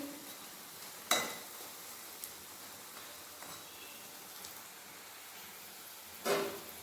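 Raw banana kofta frying in oil gives a faint, steady sizzle, broken by two sharp utensil clinks near the start and end, with no talking.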